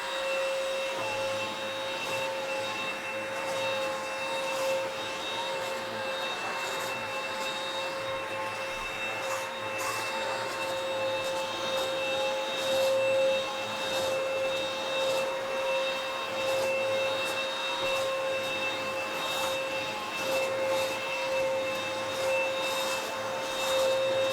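A $150 Eureka budget vacuum cleaner runs steadily on a mattress, a constant whining motor drone with a sharp tonal pitch and faint brushing texture, close and unbroken throughout, with no talking.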